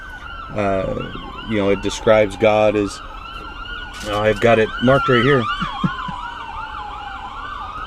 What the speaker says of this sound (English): I'll wait till this ambulance goes by.